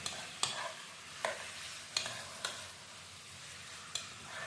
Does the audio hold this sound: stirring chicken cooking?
yes